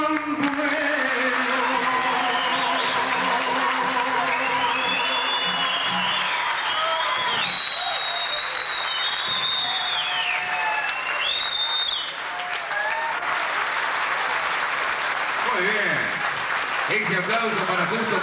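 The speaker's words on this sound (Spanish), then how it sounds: "Este aplauso para Justo Pozzolo." Audience applauding at a radio station's 31st anniversary event in 1988, a long, loud, continuous wash of many hands clapping, with voices talking and a whistling, warbling sound over it.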